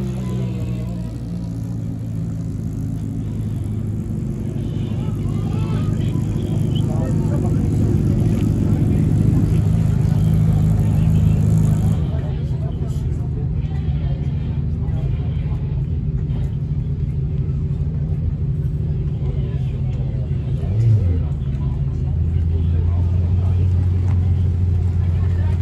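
A BRC 05 Evo race car from the CR group rumbles steadily with a low, continuous engine drone, loud and close, with a change in tone partway through as talk runs over it.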